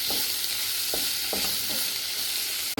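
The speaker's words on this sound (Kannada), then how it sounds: "ಅದು ಚೆನ್ನಾಗಿ ಫ್ರೈ ಮಾಡುವ" Masala sizzles steadily in a hot pan while cooking for egg masala kadubu, with a few soft stirring scrapes spread across the clip and a sharp clatter near the end.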